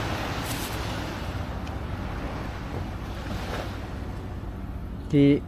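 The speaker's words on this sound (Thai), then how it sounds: "มันมีแต่เสียงคลื่นนะครับ" Steady, broad rushing of ocean waves at Saeng Chan Beach with wind noise throughout, continuous and moderately loud, ending with a brief louder mechanical blip.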